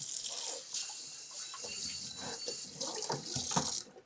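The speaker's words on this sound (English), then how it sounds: "give my bowl a quick rinse." Running kitchen tap water splashing into a bowl as it gets a quick rinse, a steady close hiss with shifting splashes that cuts off abruptly at the end.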